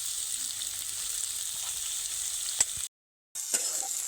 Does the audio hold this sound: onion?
yes